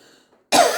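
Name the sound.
cough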